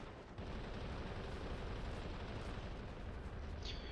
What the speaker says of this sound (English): Let's move that gun up, guys. And then that gun's firing too.